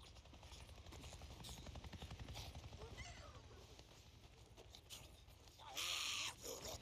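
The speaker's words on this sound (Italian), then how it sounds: "Io mando un elicottero." A helicopter in the video game Days Gone thrums in a fast rotor pulse, fairly faint under game sounds, with a brief brighter burst of noise near the end.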